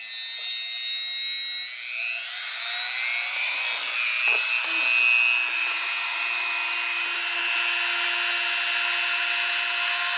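A cutting tool slicing a CB radio antenna down to length on a truck, a sustained high whining buzz that rises in pitch early on and holds steadily, loud and close, with no talk.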